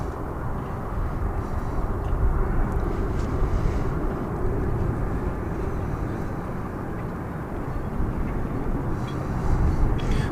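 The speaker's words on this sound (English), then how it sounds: "So we're tracking this MD-11." An MD-11 jet at DFW International Airport produces a steady, broad engine roar that stays fairly even throughout, with slight swells near the middle and end and no talk.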